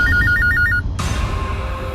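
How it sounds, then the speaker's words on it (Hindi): An electronic telephone ringtone trills in a repeating stepped pattern for under a second and then stops, loud and close over a low background hum in a crime drama scene. "चलो उठाओ, फोन उठाओ तुम्हारा अभी।"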